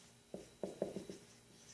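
Handwriting during a maths lesson, a short run of four or five soft scratchy pen strokes, close and quiet, with no talking.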